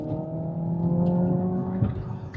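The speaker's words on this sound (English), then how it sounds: "can you hear the engine noise?" A steady synthetic engine hum with layered tones from a Hyundai Ioniq 5 N electric car's simulated engine sound, constant and fairly loud, with a slight swell near the end and no talking.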